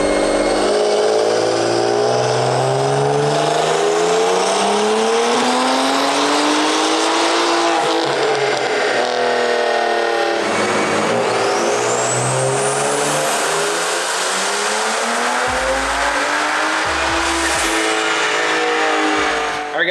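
A big-turbo BMW F30 335i revs hard on a dyno, its loud engine note climbing through repeated rising sweeps with turbo whistle and brief drops between gears, no talk over it.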